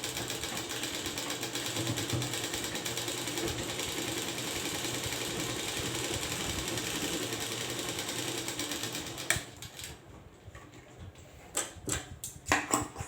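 A sewing machine stitches a blouse seam in a steady, fast mechanical whir for about nine seconds, then stops, leaving a few short bursts of running and handling noises.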